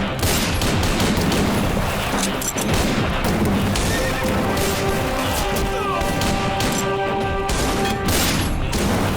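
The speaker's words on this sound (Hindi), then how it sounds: "अब शादी में गोली चलाने की क्या जरूरत थी?" Gunfire breaks out at a wedding in a Telugu action film, with a fusillade of shots mixed with horse whinnies and a dense film soundtrack that goes on steadily throughout.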